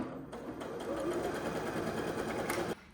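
A sewing machine runs steadily for about two and a half seconds, stitching along the fabric edge of a wrap skirt, then stops abruptly. Its whirring is close and even, with no talking.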